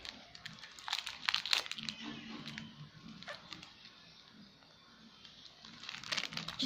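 A plastic bag of Stay Fresh mint candy crinkling close up in irregular bursts of sharp rustling, fading briefly midway before picking up again, with no speech.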